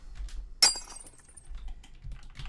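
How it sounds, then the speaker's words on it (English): A processed broken glass effect in a jump-up drum and bass track, one sharp bright shatter with a short ringing tail over quiet clicking texture. "I've got this broken glass,"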